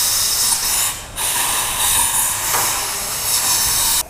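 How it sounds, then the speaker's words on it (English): Compressed air hissing loudly out of the outlet pipe of a motorcycle fuel tank, a harsh continuous blast that cuts off briefly near the one-second mark, then resumes and runs steadily to the end. "Is blowing air from that outlet pipe,"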